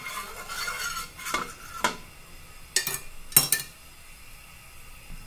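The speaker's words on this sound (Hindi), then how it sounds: "अब मैं तवे पे लगा दे रही हूँ घी।" Ghee is spread across a hot tawa griddle, heard as a few brief scraping strokes and light metallic touches over a faint, quiet sizzle, with short pauses between strokes.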